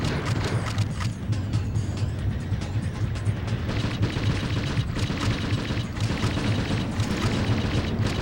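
Nonstop gunfire from the Judge Dredd game on PS1 rattles in dense, rapid bursts with booming shots layered throughout, loud and unbroken for the whole stretch.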